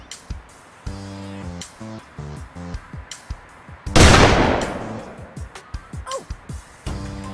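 A single loud gunshot in Worms Ultimate Mayhem rings out mid-clip with a decaying tail, surrounded by short game sound effects and bleeps.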